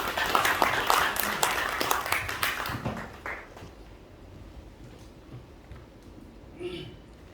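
A small audience at a Korean civic association meeting claps for a few seconds, brisk and fairly close, then the applause dies away into quiet room noise with faint voices.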